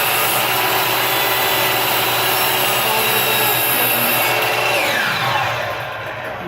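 Power saw cutting a piece of wood off again in a woodworking shop, a loud steady whining cut that winds down near the end.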